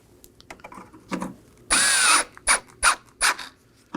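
A power driver turns T15 Torx screws into the grille of a 2018-2024 Chevrolet Equinox, with one longer whir followed by three short bursts, close and loud against light clicks and handling noise.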